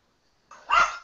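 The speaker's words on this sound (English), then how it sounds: "got a dog barking" Dog gives a single short bark, moderately loud and slightly distant, after a brief quiet moment.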